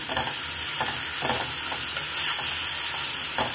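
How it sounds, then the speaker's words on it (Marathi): Onion and tomato frying in oil with turmeric for a dry potato curry, a continuous close sizzle with soft stirring scrapes at irregular intervals and no voices. "हळद टाकून घेतल्यावर मस्त कांदा टमाटा आपल्याला एक करून घ्यायचा"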